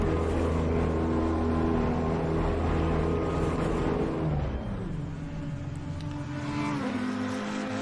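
A GT3 race car in a sim racing game runs on the pit limiter into pit lane, its engine giving a loud, steady, buzzing drone with harmonic tones that drops in pitch midway as it slows.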